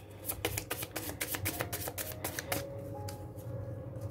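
Tarot cards are shuffled and drawn in a rapid run of crisp, papery flicks and riffles. The flicks come close and steady, then thin out toward the end, and no voice is heard.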